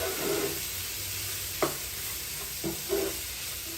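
Carrots, onions, green peas and kale leaves fry together in a pan, a soft steady sizzle with a few distinct spatula scrapes and taps.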